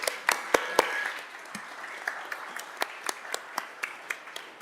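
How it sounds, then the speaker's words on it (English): Applause at a Columbus City Council meeting, congratulating honorees, comes through as sparse, sharp individual claps from a small crowd in a hall, continuing at a steady scattered pace throughout. "Let's give them all a round of applause again."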